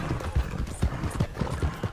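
Horse hooves clip-clopping in a steady galloping rhythm in the video game Red Dead Redemption 2, close and fairly loud, with no voices.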